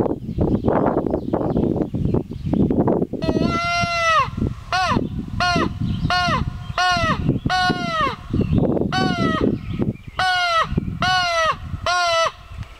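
A handheld crow caller blown in a series of harsh, nasal caws imitating a crow, about a dozen loud close calls in uneven bursts, mixed with wind and handling rustle.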